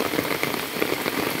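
Steady heavy rainfall in a village on a winter morning, close and constant, a thick hiss of countless drops drumming on surfaces without pause.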